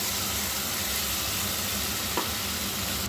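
Spice paste hits a pan of fried onions and sizzles with a continuous dense hiss, close and even, with a single faint tap partway through.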